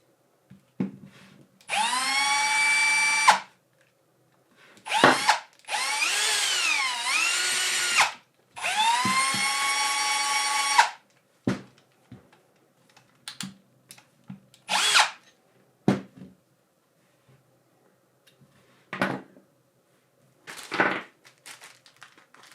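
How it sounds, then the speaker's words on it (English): An electric screwdriver whirs in three long bursts, its motor pitch rising and falling, followed by several short, sharp spurts, loud and close with silent pauses between. "My screwdriver can now screw itself."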